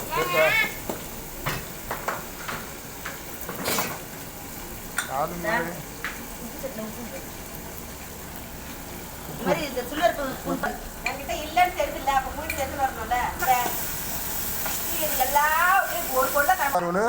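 Ginger and garlic fry and are stirred in a pan, giving a steady hiss and sizzle with scraping strokes, while people talk over it nearly throughout.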